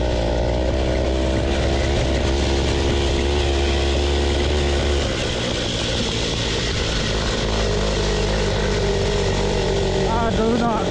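A small 2HP two-stroke washing machine engine mini bike is ridden with a loud, constant droning buzz heard up close, shifting in pitch partway through as it labors along, with voices over the engine.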